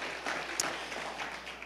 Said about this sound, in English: can you give those who are watching at our North Campus and online a great round of applause as well